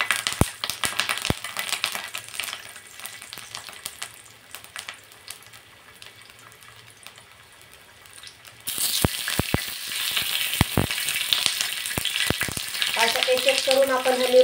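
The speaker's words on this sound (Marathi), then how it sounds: "आपण ह्या मिरच्या ठेवून देणार आहोत या तेलावरती" Stuffed capsicums sizzling in oil on a very hot griddle, with sharp clicks and pops over a steady frying hiss that turns louder and fuller partway through as more peppers go in, close and without talking.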